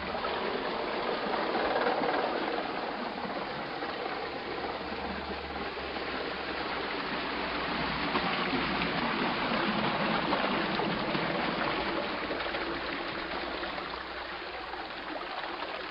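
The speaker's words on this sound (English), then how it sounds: "the gates are open, the water pours in" Water pours steadily into a Morris Canal lock through opened lock gates, a constant hissing rush that holds an even level throughout.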